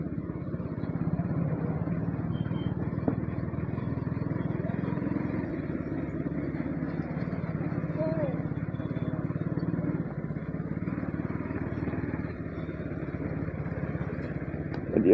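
A motorcycle rides along a rough, dangerous road, its engine giving a steady low drone with wind rumble and occasional clatter from the bumpy surface throughout.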